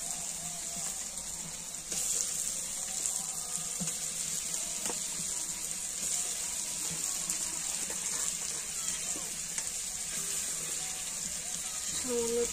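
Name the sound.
water being added to the prawn curry while cooking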